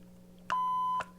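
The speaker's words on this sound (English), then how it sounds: "Bear, you want to buzz the buzzer?" A toy game buzzer is pressed once, a loud electronic beep holding steady for about half a second before cutting off, with a quiet room around it.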